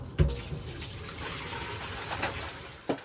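Frothy water is poured off meat for Guyanese pepperpot, giving a few brief splashing gushes, the loudest at the start and another near the end, over a low background.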